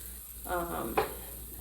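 Chicken frying in a pan gives a quiet, close sizzle that rises briefly and then fades, with a small clatter in the middle.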